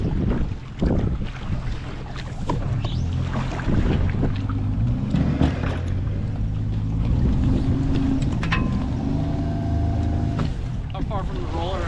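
Strong wind buffets the microphone on the water beside a boat at a launch roller, a constant loud rushing roar under occasional speech.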